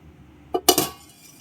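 A lid is set onto a kitchen vessel, giving a few quick metallic clinks close by against a quiet background, with no talking.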